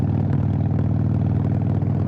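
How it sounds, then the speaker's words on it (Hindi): Harley-Davidson Iron 883 motorcycle idling with a steady, loud, close exhaust pulse in a rapid uneven rhythm, heard alone and unbroken throughout. "हार्ले के जो एग्जॉस्ट का पल्स है ना ये ट्रिपलेट में आता है"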